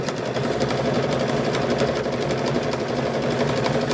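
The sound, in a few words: sewing machine stitching a car seat cover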